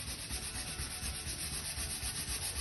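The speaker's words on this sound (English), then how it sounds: "The grain of the wood is this way, and I'm sanding with the grain" Slightly coarser sandpaper rubs along the grain of wood to lift stubborn stains, a close, steady scratchy hiss in quick back-and-forth strokes with no talking.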